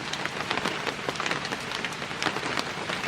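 Steady rain pattering on a surface, with dense scattered drops and occasional louder splashes, continuous and fairly close.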